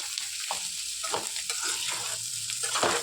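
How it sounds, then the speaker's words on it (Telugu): Half a kilo of sliced bitter gourd frying in about three tablespoons of oil for a Rayalaseema-style fry, a steady close sizzle with soft stirring scrapes. "కాబట్టి కొద్దిగా ఆయిల్ వేసుకుంటే తొందరగా ఫ్రై మంచి కలర్ వచ్చేస్తాయి"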